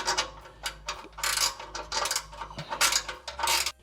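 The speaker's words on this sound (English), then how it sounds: "This one's got a ratcheting spanner on top of it as well." A ratcheting spanner clicks rapidly while loosening exhaust nuts on a Subaru BRZ, a close, busy run of metallic ratchet ticks with some clanking of tools.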